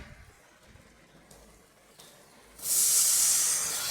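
Water hits hot oil and bursts into a loud, bright sizzling hiss after a quiet stretch of faint clatter, while cooking egg curry.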